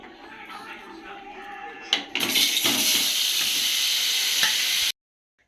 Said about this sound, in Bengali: এদিকে আমার কড়া পুড়ে যাচ্ছে আলুগুলো ভেজে নিই